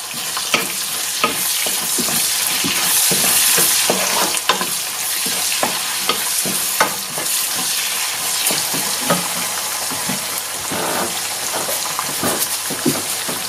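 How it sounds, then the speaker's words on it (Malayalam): Garlic and ginger sizzle in hot oil as they are stir-fried for a Kerala-style fish pickle, a continuous crackling fry broken by frequent scraping strokes from the stirring spoon, heard close up with no voices. "ഇനി ഈ വെളുത്തുള്ളി ഇഞ്ചിയും ഒരു ബ്രൗൺ കളർ ആവുന്നിടം വരെ ഇളക്കി കൊടുക്കാം"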